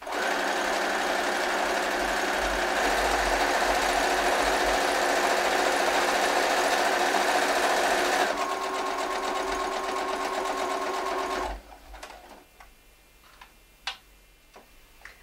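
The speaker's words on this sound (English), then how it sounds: "my sewing machine doesn't like pins" A sewing machine stitches fabric for a mermaid swim tail, a steady fast mechanical whir that runs continuously for about eleven seconds, then stops, leaving a few faint clicks and handling sounds.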